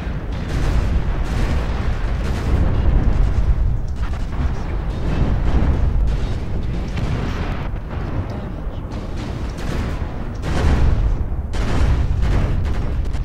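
Repeated explosions and weapon fire from the MechWarrior Online video game, loud, dense and near, with bursts rolling one after another across the whole stretch and no clear gaps.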